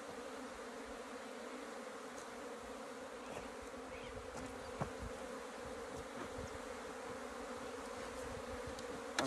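Bees buzz continuously from a termite mound during a capture, a dense swarm hum at low level with occasional louder individual passes and faint knocks.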